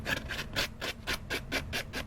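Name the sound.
roughing up card edges for card making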